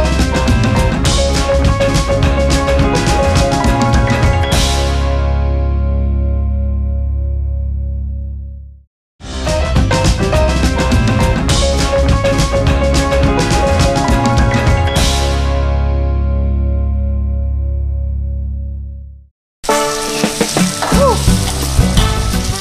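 Garlic and shallots stir-fried in a hot pan for Cantonese-style noodles, a loud steady sizzle that rises, fades out, returns, and fades again, then a harsher burst at the end.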